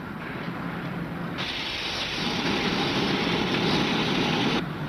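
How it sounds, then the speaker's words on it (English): A standing steam locomotive blows off steam in a loud, continuous hiss that rises in strength partway through, alone without talk. "He's bleeding off his steam."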